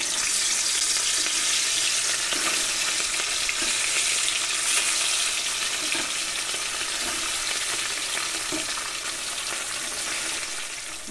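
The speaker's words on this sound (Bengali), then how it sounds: "কড়াইয়ে তেল খুব ভালো করে গরম করে নিয়েছি। আজকে আমি বানাবো মাছের কালিয়া। মাছ ভেজে নেব।" Rui fish frying in very hot oil in a wok, a loud, dense, continuous sizzle with crackling spatter that holds steady throughout, close by, with no talking.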